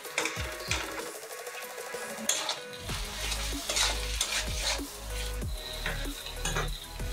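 Chicken pieces stirred in a frying pan while cooking down, with steady sizzling and repeated scraping, clattering strokes of a spatula against the pan, close and alone.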